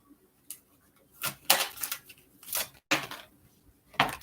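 Angels of Abundance oracle cards are shuffled in a series of quick, crisp riffling bursts with short pauses between, fairly close and alone without talk.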